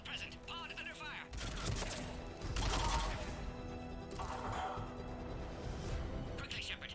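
Gunfire in the game Mass Effect 3 crackles in repeated bursts across a chaotic checkpoint battle, mixed with other combat noise and brief clipped voices.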